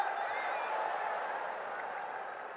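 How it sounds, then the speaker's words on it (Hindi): A crowd at a political rally applauds in a steady, dense roar of clapping that holds throughout and fades slightly toward the end. "अच्छा, हिंदी में बोला तो ताली"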